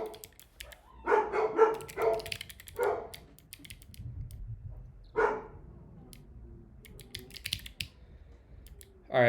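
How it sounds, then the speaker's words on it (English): A dog barks several times, fairly near, in short bursts scattered between patches of computer keyboard typing in a quiet room. "We have another dog showing up."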